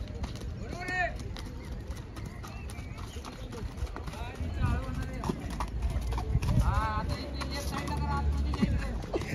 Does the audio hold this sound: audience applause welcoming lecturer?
no